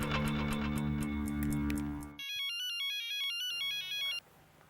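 A phone ringtone plays a melodic electronic tune, then switches to a higher repeating beeping ring pattern for about two seconds before stopping, heard clearly without speech.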